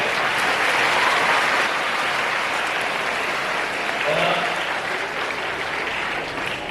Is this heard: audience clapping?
yes